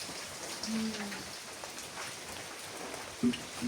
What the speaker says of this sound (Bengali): বৃষ্টি তো ভালোই শুরু হলো